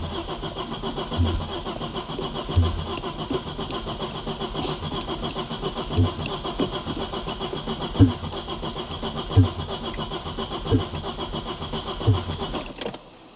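A barn-find Audi RS2 engine is cranked over repeatedly by its starter, a regular whirring churn with rhythmic compression thumps every second or so, close and steady, then catches briefly near the end; no talking.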